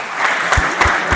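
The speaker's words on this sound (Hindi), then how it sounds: "इसके लिए एक बार ताली तो बजा रहा।" An audience in a classroom-style session bursts into brisk applause, a loud, crisp spatter of many hands clapping together with a few sharper individual claps standing out.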